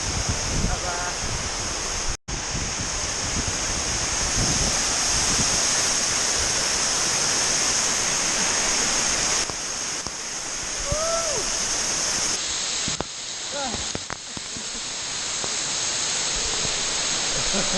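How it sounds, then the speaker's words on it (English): Roar of the Cepung cave waterfall near Ubud, Bali, a steady broadband rush filling the cave throughout, with a brief dropout near the start and faint voices of other visitors in the background. "CEPUNG waterfall. This is the cave."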